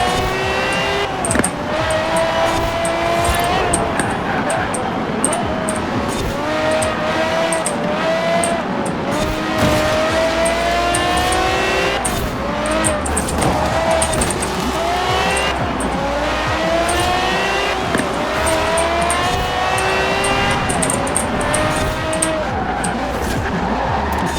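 Race car engine in Forza Horizon 4 revving hard around a small track, the pitch climbing and dropping through gear changes, with tire squeal on corners, loud and continuous throughout.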